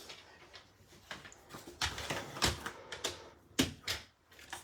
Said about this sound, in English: Just trim off a tiny little bit here.